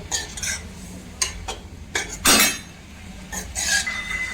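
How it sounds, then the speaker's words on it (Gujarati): A utensil stirs patra tempering in a pan over a low flame, with intermittent scraping and metallic clinks against the pan and quiet spells between the strokes. "આપણે ગેસને ધીમો કરી અને બધો જ વઘાર મિક્સ થઈ જાય એ રીતે આપણે એને મિક્સ કરી લેવાના છે"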